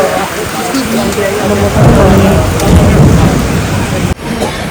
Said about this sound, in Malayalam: അവിടെ നിന്ന് ലഞ്ച് കഴിച്ചിട്ട് ഇറങ്ങിയിട്ട് തൊട്ടുള്ള മഴയാണ് ഭയങ്കര മഴ